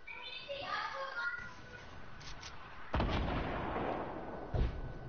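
Booming rocket launcher blasts in Fortnite, with two sharp bursts and some game effects, while players talk over the action.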